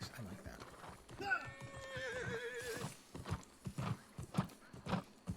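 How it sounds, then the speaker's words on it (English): A horse mount in the video game New World clip-clops with rhythmic hooves and gives a clear whinny near the start, while someone talks over the steady hoofbeats. "I can keep moving while waiting for my horse to appear underneath me."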